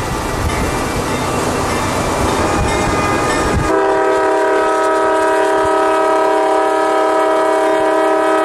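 A freight train in Georgia sounds a loud, sustained horn close by while wheels rumble and clatter along the rails, the rumble cutting away partway through as the horn blares on.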